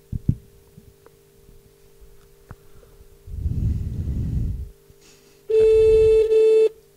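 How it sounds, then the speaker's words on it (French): A telephone ringing tone sounds once as a single loud electronic burst over a low steady hum, placed on a call during a radio broadcast. "Ça sonne."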